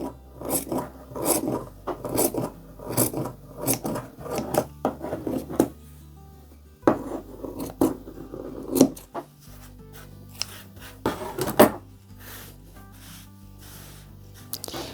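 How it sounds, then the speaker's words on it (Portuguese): Scissors snip and rasp through the yarn fringe ends of a crochet scarf, giving a run of close, irregular cutting strokes with short pauses between bursts. "basta você vir cortando com a tesoura e ajustando as pontas"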